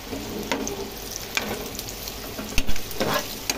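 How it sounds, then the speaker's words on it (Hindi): Raisins frying in a pan for Hazara chicken biryani, a moderate crackling sizzle punctuated by several sharp spoon scrapes and clicks, close by and without speech. "अब हम इसमें किशमिश फ्राई करेंगे"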